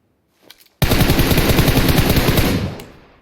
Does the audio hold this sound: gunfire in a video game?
yes